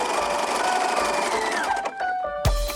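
Sewing machine running a wide zigzag stitch to attach a shoulder pad onto a cropped sweatshirt, a steady close whir that slows and changes pitch near the end before a brief clunk.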